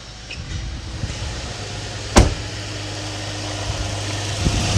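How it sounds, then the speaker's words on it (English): A cold car engine idles with a low, steady hum, broken by one sharp, loud knock midway and a fainter tap near the end. "It's a weird knocking noise."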